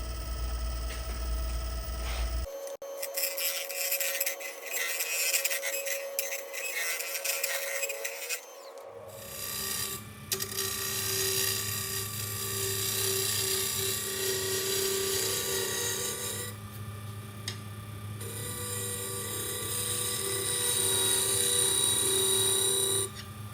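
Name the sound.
wood lathe at 1100 RPM turning segmented bowl with gouge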